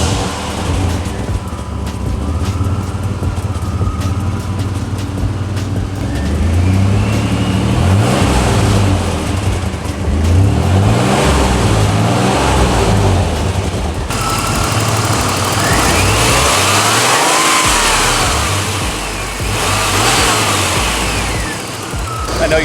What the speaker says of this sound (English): I wouldn't be revving it like that on a cold start.